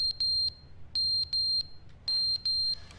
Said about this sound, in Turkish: Yangın alarmı mı o?